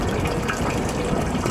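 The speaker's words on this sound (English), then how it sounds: "And that's a good flow of water." A pump pushing rainwater into a barrel on an allotment, a loud, close, continuous gushing fill of water with no talk over it.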